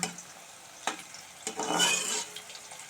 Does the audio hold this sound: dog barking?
no